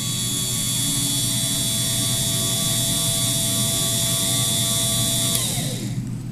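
A 2014 wiper motor triggered by a PIR sensor timer runs with a steady, loud mechanical whine and hum for several seconds, then winds down as it stops.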